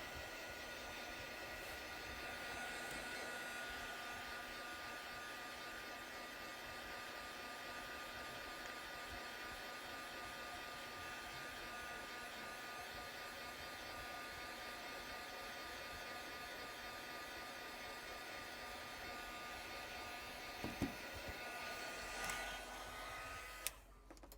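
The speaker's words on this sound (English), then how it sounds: "So just drying that ink up a little bit." Heat tool blowing on a paper card to dry stamped ink, a steady whirring hiss that runs almost unbroken and moderately close, ending with a couple of small taps as it shuts off.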